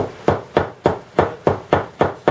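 A hammer strikes a metal rivet into a leather shop apron, seven sharp, evenly spaced blows ringing out close and loud with no talking.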